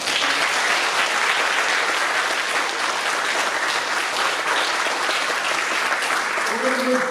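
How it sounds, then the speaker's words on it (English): An audience at an education research day gives steady, full applause after a keynote lecture, dense clapping that holds throughout, with a brief voice near the end. "one more round of applause for Dr."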